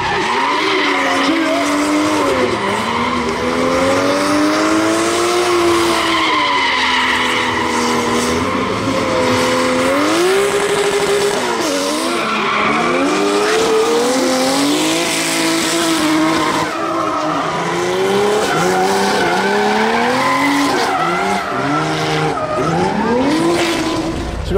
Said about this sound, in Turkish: Mercedes C kasayla ıslak zeminde drift eğitimi veriliyor.